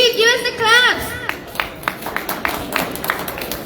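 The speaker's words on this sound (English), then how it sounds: "So give us the claps." An audience at the Ambedkar International Center claps after a speech: a voice speaks first, then scattered, uneven handclaps follow, moderately loud and thinning out.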